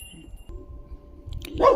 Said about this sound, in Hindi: और इधर से जोई भौंकना चालू